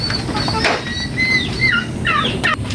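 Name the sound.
chickens clucking at a farm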